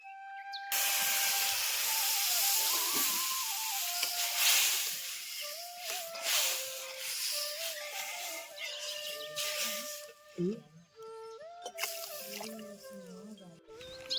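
Water poured into a pan of cracked wheat roasting over low heat, a loud sustained hissing and steaming sizzle that begins abruptly and continues throughout, with bubbling and faint clatter, no talking.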